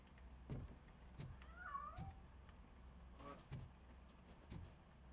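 A cat meows in the RoboCop: Rogue City video game, two distinct wavering meows between soft thuds and footsteps, fairly close and alone in a quiet space.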